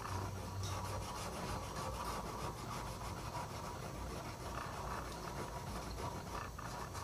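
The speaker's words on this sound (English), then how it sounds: "So we're going to clean a section of this copper tubing." Crocus cloth or steel wool rubs steadily on copper tubing, a faint continuous scrubbing that runs without break under a low background hum, with no voices.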